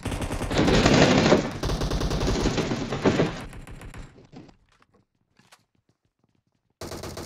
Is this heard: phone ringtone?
no